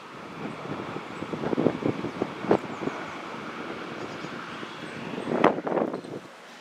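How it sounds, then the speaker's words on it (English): Gusty wind buffets the microphone in uneven bursts near Conwy, above the railway line to Anglesey, rumbling and roaring louder near the start and again toward the end, with no one talking. "It's windy today, so from time to time I might get drowned out"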